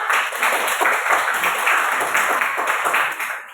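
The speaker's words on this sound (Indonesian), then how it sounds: "tepuk tangan buat kita semua" A classroom of pupils claps together in a steady, sustained round of applause, dense and continuous from start to finish, fading slightly at the very end.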